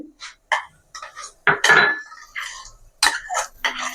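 A spoon scraping and clanking against a pot while chicken pulao is stirred with turmeric and salt, making irregular close metallic clinks and scrapes with short pauses between strokes.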